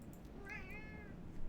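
A house cat gives one short, faint meow, a thin rising-and-falling cry over a steady low background hum.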